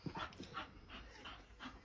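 A dog panting in rapid, uneven bursts close by, with a few soft whimpering yips mixed in, at low volume and with no talk.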